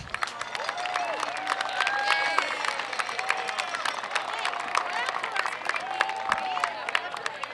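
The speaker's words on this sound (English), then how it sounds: "Could we please have a round of applause for all of our band parents?" A high school football stadium crowd claps and cheers for the marching band's parents, a broad wash of applause with scattered whistles and a stray voice or two on top.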